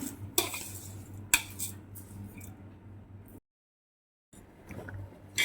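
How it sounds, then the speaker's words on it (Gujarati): A spoon stirs sugar into chunks of raw mango for chunda, making soft, close scraping and squishing sounds with a couple of sharper clinks against the bowl and a brief pause midway. "મિક્સ કરી લઈશું મોરસ બરોબર મિક્સ થઈ જાય એટલે એને એક કલાક ઢાંકી રાખીશું"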